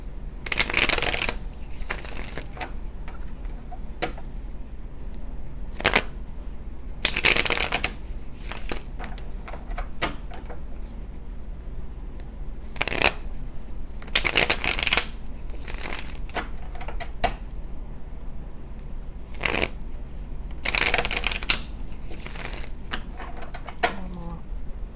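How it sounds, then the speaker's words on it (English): A tarot deck shuffled by hand in repeated bursts of riffling and card slaps, close and crisp, with brief pauses between rounds and no talking. "Give it a few shuffles."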